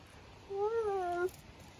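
A single cat meow, clear and drawn out for under a second, rises then falls against a quiet background, heard outdoors.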